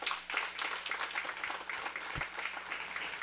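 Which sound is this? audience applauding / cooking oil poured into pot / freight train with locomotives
audience applauding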